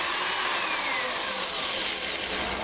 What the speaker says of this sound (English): the drilling movement will be started.